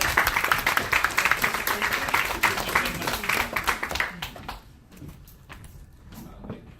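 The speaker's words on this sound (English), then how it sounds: "Let's give a round of applause there." Audience applause at a lecture, a dense burst of many hands clapping that thins out and fades to a few scattered claps by the end.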